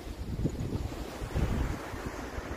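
Rushing water from a mountain waterfall on the high trail from Bhim Dwar toward Parvati Bagh and Shrikhand Kailash, heard as a steady broad roar mixed with wind noise, close and continuous throughout.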